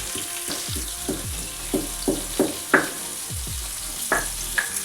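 Dried red chillies drop into hot mustard oil, sizzling and crackling steadily with repeated sharp pops and stirring scrapes, close and alone with no talk.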